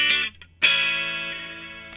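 An electric guitar played through an amp effect in Ableton Live with no reverb, a short strum then a sustained ringing chord that decays steadily, dry and close, with no talk.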